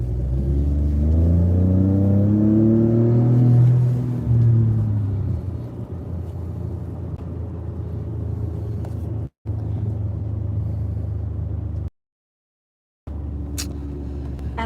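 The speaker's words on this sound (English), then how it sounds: "then you'll hear my exhaust system" Ford F-150 twin-turbo performance truck driving on small-town roads, its exhaust droning low as the engine revs rise and fall early, then settling into a steady cruising rumble with a brief dropout.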